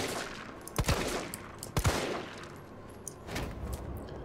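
Gunfire in the Resident Evil 3 Remake demo: a few sharp, loud shots cracking out at irregular intervals over a steady rumbling game ambience, with no talking.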